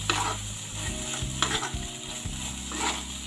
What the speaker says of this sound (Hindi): अच्छे से भून गया है मसाला सारा